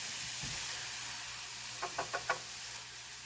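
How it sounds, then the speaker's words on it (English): Onions sauté in butter over high heat, making a soft, even hiss with four quick utensil taps against the pan toward the end. "Alright, so our onions are starting to caramelize, and that's about where I'm wanting them."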